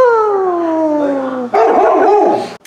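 A puppy howls loudly and close with a long falling whine, then breaks into a rough, yippy bark-howl, alone with no talking.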